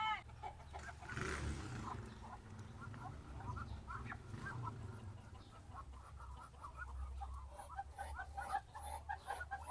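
Muscovy ducks forage for snails and insects around a backyard fish pond, their soft, rhythmic calls and clucks repeating close by over a low rumbling background, with a voice talking intermittently.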